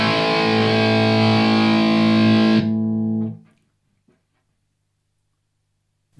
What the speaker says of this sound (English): The GX100 Blues Driver.